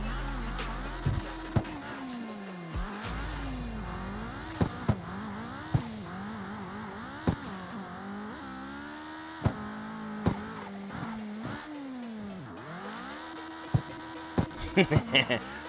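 All-wheel-drive car in the CarX Street racing game on Sport Plus tires, its engine revving up and down in repeated throttle bursts with sharp tire and impact clicks, loud and continuous throughout.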